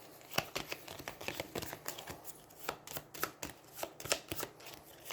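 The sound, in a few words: shuffling cards for Aeons End board game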